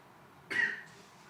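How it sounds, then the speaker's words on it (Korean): A single short cough in a high school math class, fairly soft and nearby, against a quiet background. "기침만 하지 마시고요."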